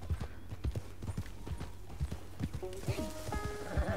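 Horse hooves clip-clopping in a steady trotting rhythm while riding in Red Dead Redemption 2, with a brief whinny, soft game music rising near the end and someone talking over it.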